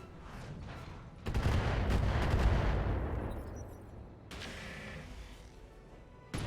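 Artillery fire in the mech combat game RogueTech: heavy booming shots and rumbling impacts in two bursts with a decaying tail between them, moderately loud with no talk over them.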